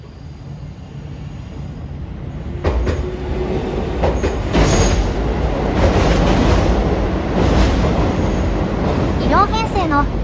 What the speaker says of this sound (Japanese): 両編成の飯田線の列車が豊橋駅に向かって豊川を渡っていきました。